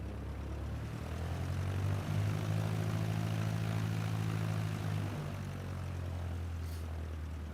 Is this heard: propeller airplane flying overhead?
yes